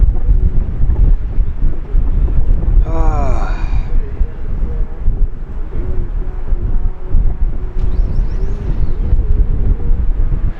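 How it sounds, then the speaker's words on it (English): Strong wind roars and buffets the microphone throughout, with a brief voice-like sigh or exclamation partway through. "So windy."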